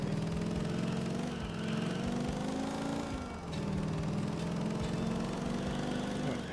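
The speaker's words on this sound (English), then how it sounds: "Apparently a lawnmower." Lawnmower engine in GTA IV: The Lost & Damned, a steady buzzing motor drone that dips briefly and returns, loud and continuous with no talk.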